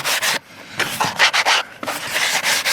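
Sandpaper rubs back and forth over a DIY wooden gate in loud, close, rhythmic rasping strokes with short pauses between passes.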